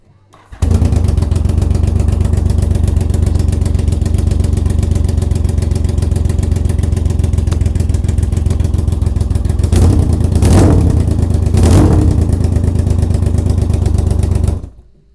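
A 1978 Yamaha XS750 motorcycle engine, fed from a makeshift temporary fuel tank and with an exhaust leak on cylinder one, starts and runs at a steady, loud idle for about fourteen seconds, with two brief throttle blips near the end.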